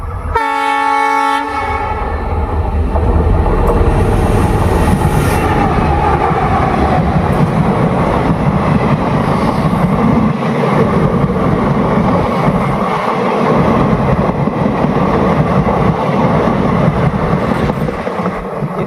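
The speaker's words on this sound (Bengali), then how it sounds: "ফাইনালি ট্রেনটো আহি আছে" A small passenger train near Goalpara, Assam sounds its horn as it arrives, then rolls past close by with a loud, steady rumble and clatter of wheels on the rails.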